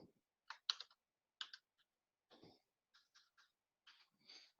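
Someone types on a computer keyboard in short, irregular bursts of crisp clicks, quiet and close, with pauses between and a soft breath or throat sound near the start.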